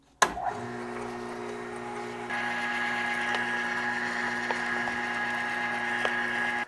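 A Weston Butcher #22 electric meat grinder running a second grind, with a clunk as it starts and then a steady motor hum that becomes a louder, higher whine as meat feeds through, close and continuous.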